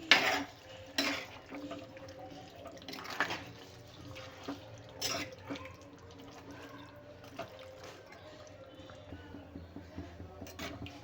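Mutton curry stirred in a pot, a spoon scraping and clinking against the metal with soft wet sloshing, in irregular strokes close by, moderately quiet, with no talk.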